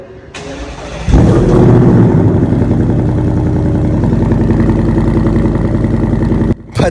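A 2024 Ford Mustang GT is started remotely from its key fob. After a brief cranking the engine fires with a loud burst and settles into a deep, rumbling idle close by, which cuts out briefly near the end.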